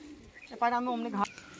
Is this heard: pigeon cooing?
yes